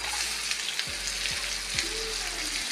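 Chopped onions hit hot oil in a pan for an onion curry, a steady hiss of frying with a few soft stirring scrapes, close and continuous.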